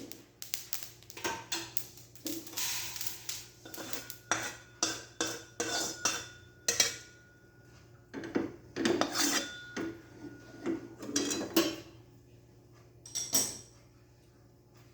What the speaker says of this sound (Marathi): बघा असं चटचट आवाज असा तुम्हाला येतच असेल आपले तिळ भाजलेले आहेत